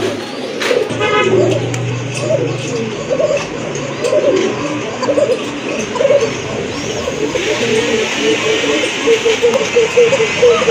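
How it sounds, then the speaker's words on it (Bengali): Fancy pigeons, including Rajgolla and satin breeds, coo close by in soft repeated throaty rolls that rise and fall in a loose rhythm, with faint background noise and a possible murmur of voices. "দেখেন কবুতরের ডাকের কোয়ালিটি দেখেন"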